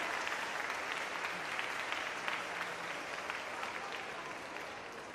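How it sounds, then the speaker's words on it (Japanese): Steady applause from an audience greeting the winning Okayama Rivets table tennis team at a T.League match held in a shopping mall in Okayama, a dense, even wash of clapping that carries on at one level for the whole stretch. "大きな拍手をお迎えください。"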